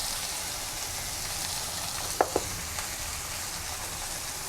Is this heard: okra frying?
yes